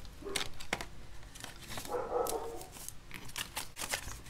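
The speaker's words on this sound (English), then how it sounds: "I apologize, you guys, if you hear a dog in the background." A dog barks in the background of a hot indoor room, several muffled woofs and yips at irregular moments, moderately distant and not very loud.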